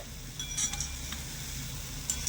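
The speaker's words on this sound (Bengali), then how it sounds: "তেলের মধ্যে আমি অল্প কয়েকটা বোঁদে ছেড়ে দিয়েছি" A few boondi drops sputter in hot oil with a quiet, steady sizzle and a couple of light metallic clinks, heard close and faint without talk.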